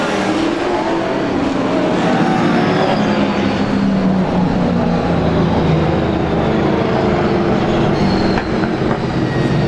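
Race cars at Star Speedway during a 100-lap race, engines roaring continuously and loudly close by with a steady, sustained drone and no pause throughout.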